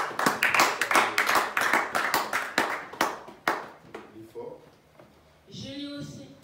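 Church congregation claps for the Bible reader, a burst of brisk, loud hand claps that thins out and fades after a few seconds, followed by a voice speaking.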